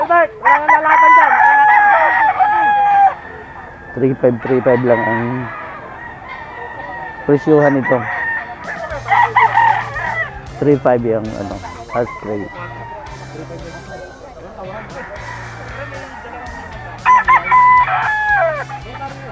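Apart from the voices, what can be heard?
roosters crowing at a cockfighting rooster sale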